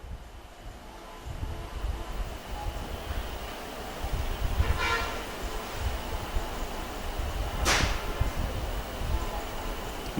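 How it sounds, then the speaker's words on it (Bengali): An air conditioner runs in a quiet room with a steady, even hum and hiss throughout, broken by two brief soft noises partway through. "এসির শব্দ পেয়েছেন"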